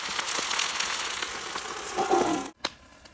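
Steady, crackling sizzle of meat frying in a hot pan, close and fairly loud, with a brief stir near the end before it drops off sharply.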